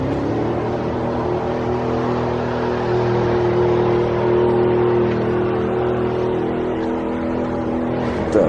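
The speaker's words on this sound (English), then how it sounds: "that's the first car I have seen here." A car drives along an empty road in the Centralia ghost town, its engine a steady, fairly loud hum that swells slightly midway and eases off toward the end, with no talk.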